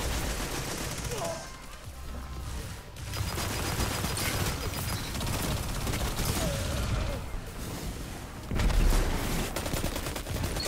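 Sustained automatic gunfire from an auto rifle in the Destiny 2 Iron Banner PvP mode, dense crackling bursts that run across the whole stretch with a heavier thump near the end.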